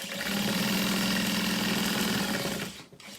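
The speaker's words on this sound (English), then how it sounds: "I like to stitch across this bottom opening now as well" Sewing machine running a continuous stitch across the bottom opening of a fabric backpack, a steady rapid mechanical whir close up that cuts off near the end.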